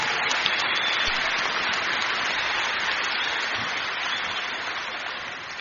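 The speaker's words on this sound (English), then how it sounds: "Can we give the committee another big round of applause?" A crowd at a Founders Day gathering in Akron applauds the committee, a dense, steady wash of clapping that holds at a fairly even level for several seconds and eases off slightly toward the end, with no voices over it.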